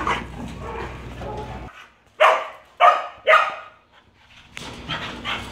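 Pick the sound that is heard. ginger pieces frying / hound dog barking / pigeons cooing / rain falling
hound dog barking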